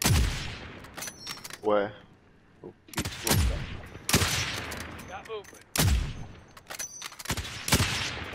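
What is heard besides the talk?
gunfire in the video game Call of Duty Warzone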